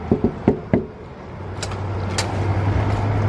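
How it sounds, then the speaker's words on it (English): Four sharp knocks in quick succession on a hotel room door, loud and close, followed by a steady low hum from the room. "That was a loud knock."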